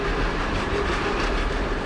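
Tram rolling through a city street, heard from on board or close by as a steady, loud rumble with clattering wheels on the rails and no talking.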